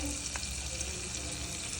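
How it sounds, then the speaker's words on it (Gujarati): Butter for butter chicken sizzles and crackles steadily in a hot pan, with faint scraping of a spoon stirring underneath. "આ બાજુ બટર ગરમ થઈ રહેલું છે"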